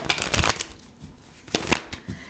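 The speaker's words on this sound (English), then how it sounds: "Let's just shuffle them all." Two quick bursts of cards being shuffled nearby, crisp riffling flutters separated by a short pause.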